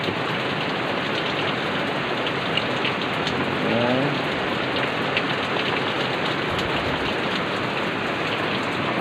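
Heavy rain pouring steadily in the early morning, a dense unbroken roar of falling water that stays loud and even throughout, with no voices.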